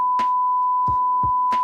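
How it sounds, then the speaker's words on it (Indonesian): A steady, continuous censor bleep tone runs unbroken over Indonesian speech, with short bursts of voice poking through around it, loud and close. "Tolong di bip."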